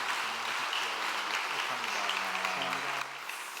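A church congregation applauds to encourage newly baptized members at a Sunday morning service, a soft, even patter of many hands from a room of people, continuous for a few seconds before dropping slightly at the end.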